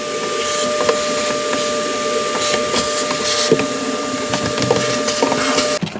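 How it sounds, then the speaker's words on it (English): A vacuum cleaner hoovers out the interior of a Smart ForTwo 451 car, a steady close motor whine with a faint tonal hum, broken by scattered knocks and scraping as the nozzle moves around, continuous for the full length. "hoover this out"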